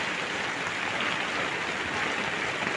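Steady rain falls in a village in Karnataka, a dense, even hiss of drops on surfaces, moderately loud and unbroken throughout, with no voices.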